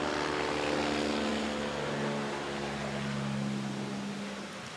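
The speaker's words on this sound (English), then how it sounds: "Okay, helicopter gone." A helicopter passes overhead, its steady low rotor drone and engine hum holding loud and constant throughout, with no talking.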